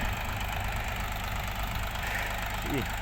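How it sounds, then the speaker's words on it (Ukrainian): A small tractor engine runs steadily while working a field during buckwheat windrow shredding, a continuous low mechanical drone throughout with no break in level. "Отака робота моїм тракторцем"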